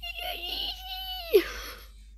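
Cute cat meowing in the Roblox game Horse Racing Simulator, a single drawn-out synthetic meow with a rising then falling tone, fairly loud and close, ending in a brief higher squeak, with no talk over it.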